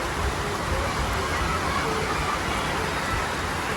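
Steady rain falling outdoors, a dense even hiss of drops at constant loudness throughout.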